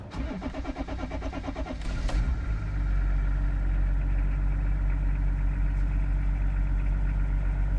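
A P38A Range Rover engine cranks with a rhythmic whirring for a couple of seconds, catches, then settles into a loud, steady low idle nearby.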